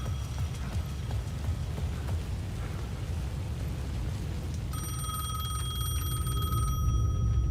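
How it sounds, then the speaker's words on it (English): A payphone rings in the Alan Wake 2 video game, its bright electronic ring cutting in over a dense rainy ambient wash for the final few seconds. "The payphone at the edge of the plaza was ringing again."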